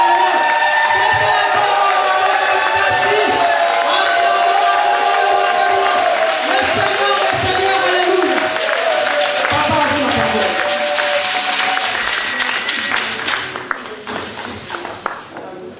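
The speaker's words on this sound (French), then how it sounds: "nous acclamons très fort le Seigneur" A church congregation cheers and applauds together in a loud, dense wash of clapping, shouts and voices that carries on steadily and only begins to thin toward the close.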